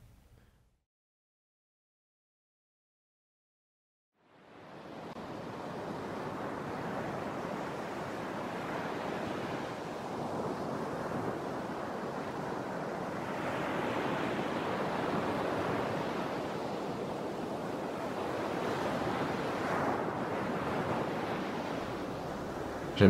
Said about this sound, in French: J'aime trop le bruit de la mer.